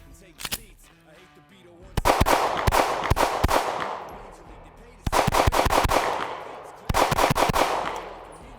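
Shots from a Shadow Systems CR920X micro-compact pistol: loud, close reports fired in several quick bursts separated by brief pauses, each string of rapid cracks ringing out into echo.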